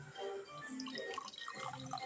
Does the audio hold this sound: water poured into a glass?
yes